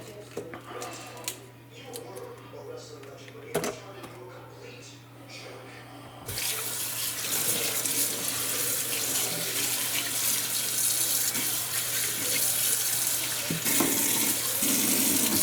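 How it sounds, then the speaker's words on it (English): Tap water runs over a cleaned blue claw crab at a sink, starting as a sudden steady close rush that continues to the end, with a brief lull near the close, after some quieter handling noises and light speech at the start. "You want to be able to rinse all of this out here."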